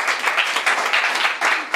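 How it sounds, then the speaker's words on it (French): A political assembly applauds during a coalition signing ceremony: brisk group clapping that swells and dips in waves, steady and fairly close throughout. "L'Assemblée, on peut applaudir."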